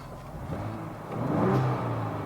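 A Ford Bronco Raptor pickup's engine idles in normal mode, then revs up in a rising surge and settles back to a steady rumble, close and fairly loud.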